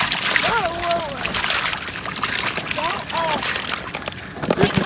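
Live crawfish tipped into a tub of water for purging at an outdoor crawfish boil, giving a continuous loud sloshing splash with a broadband wash; people talk over it.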